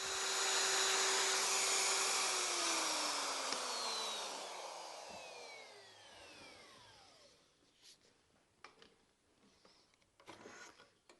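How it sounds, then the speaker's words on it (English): A router spins down after cutting a round-ended mortise with a frame mortise and tenon jig; a loud broadband whine fades and drops in pitch over several seconds, leaving faint clatter and quiet handling noises. "These cuts result in a round-ended mortise from the router bit."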